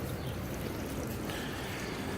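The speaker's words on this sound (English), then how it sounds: "I started filling this hole with water" Water pours steadily into a freshly dug, dry planting hole for a lemon tree, a continuous close gushing and splashing wash with no pauses and no voices over it.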